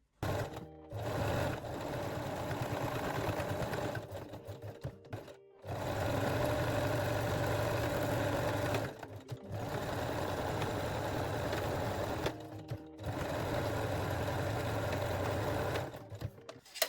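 Sewing machine running zigzag stitches on a bralette, a steady mechanical whirring hum in four long bursts separated by brief pauses, close and fairly loud, no talking.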